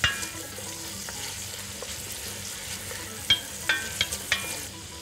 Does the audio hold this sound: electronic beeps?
no